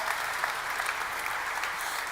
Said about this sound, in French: Je vous demande un tonnerre d'applaudissements pour le docteur Robert Haas